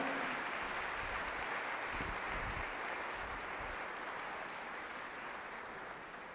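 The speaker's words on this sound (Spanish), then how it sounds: "Dele una ofrenda de palmas a Él." A church congregation applauds after a preacher calls for an offering of applause, a steady wash of clapping that holds for the whole stretch and fades slightly toward the end.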